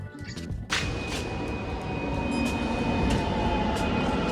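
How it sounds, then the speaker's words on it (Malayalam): Steady low rumble of a metro train at Vyttila metro station in Kochi, with a sustained whine and occasional clanks, loud and continuous throughout. "ഞാനിപ്പോൾ ഉള്ളത് വയറ്റില മെട്രോ സ്റ്റേഷനിലാണ്"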